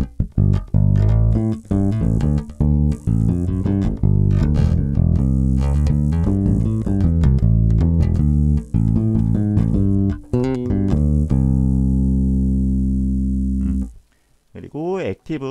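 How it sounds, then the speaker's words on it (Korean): Cort Elrick NJS4 bass guitar played through its active front pickup, a run of plucked notes and lines with deep, sustained low end, steady and close, ending on a ringing held note before a short pause. "액티브 앞픽업 소리입니다."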